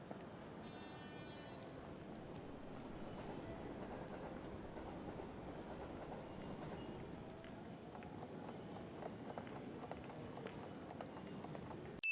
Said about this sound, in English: You are exiting a train station